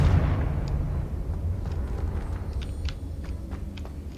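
Confringo blast spell in the Hogwarts Legacy video game, a heavy rumbling burst at the start that decays into a lingering low roar, with faint sharp ticks and crackles scattered through the tail.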